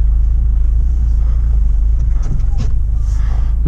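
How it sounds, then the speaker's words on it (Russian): A UAZ Patriot SUV engine revving off-road in offroad mode, a deep pulsing low rumble that stays steady and close, with brief scrapes and knocks from the terrain over it and no voices. "мотор намного интенсивнее,"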